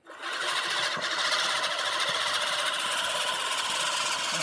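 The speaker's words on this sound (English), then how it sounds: "I'm about to cut some grass, guys. And what do you have here? I have a lawnmower." A lawn mower engine starts up and runs at a steady, loud, close drone with a rattling buzz for several seconds, with no talking.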